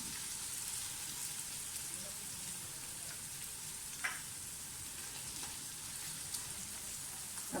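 Ingredients sauté in a pan for green moong dal, giving off a steady, even sizzle with a faint crackle and a few soft clinks of stirring, with no voice over it.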